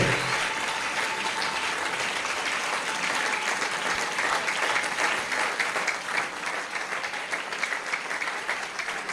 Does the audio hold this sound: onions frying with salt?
no